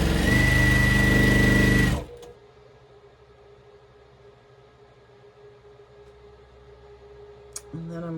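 A sewing machine stitches a quilt block in a loud, fast whir for about two seconds, then stops, leaving a quiet room with a low hum before a brief restart at the end.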